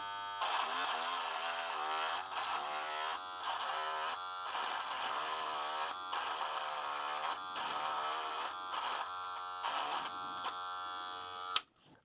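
A Wahl Magic Clip hair clipper runs under a torque test with a continuous high-pitched electric buzz whose pitch dips briefly at intervals as it takes load. A sharp click comes near the end as it switches off.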